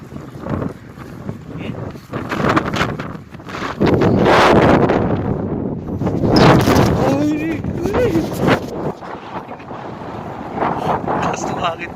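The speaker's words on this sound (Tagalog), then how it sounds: "Sobrang lakas ng hangin. Tapos sobrang lakas na ng hangin. Ayun pa yung sandstorm." Powerful sandstorm wind blasts across the microphone in loud, surging gusts, rising and falling over a constant roar, while someone speaks intermittently beneath it.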